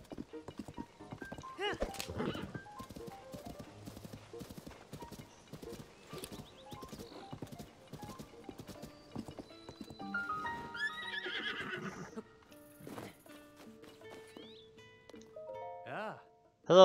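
Horses at a stable in the video game The Legend of Zelda: Tears of the Kingdom, with clip-clopping hooves and several whinnies and neighs, near and moderately loud, among game effects and chimes.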